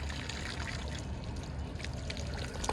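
Water is poured out for washing a face, a continuous close splashing trickle that runs steadily at moderate loudness with a few brighter splashes near the end.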